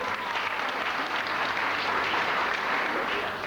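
Applause from an audience at a children's Easter celebration show, a steady dense wash of clapping throughout, fairly distant and even.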